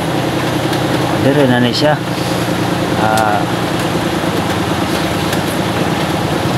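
An engine idles with a steady low mechanical drone before being switched off, running continuously beneath a man's brief speech close by.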